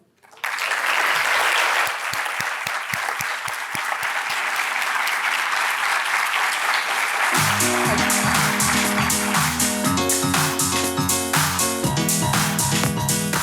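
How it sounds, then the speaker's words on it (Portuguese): Audience applause at a welcome ceremony for a student, a dense, sustained burst of clapping that rises quickly and holds loud for over ten seconds while music comes in partway through. "Peço, por gentileza, uma salva de palmas para a estudante Maria Clara Bichain"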